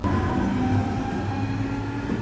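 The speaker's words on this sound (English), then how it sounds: "going farther north on the subway than I have ever gone before" Steady rumble of a subway train riding through Stuttgart, Germany, a continuous loud rolling drone with low hum and faint tonal whine throughout, no voices.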